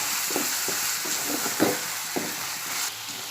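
Onion softening in oil in a pan for a Konkani jackfruit bhaji, with a steady close sizzle broken by a few soft scrapes and stirs of the spoon and no voices.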